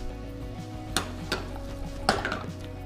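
An onion sizzles steadily in a hot pan, with a few sharp clinks of a utensil stirring against the pan, close and alone.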